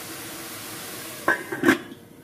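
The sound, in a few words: putting a lid on a simmering pot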